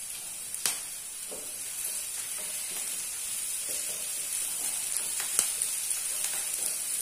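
Curry leaves sizzle in hot oil with onion for an egg curry, giving a steady bright crackling hiss with a few sharp pops, close and even throughout.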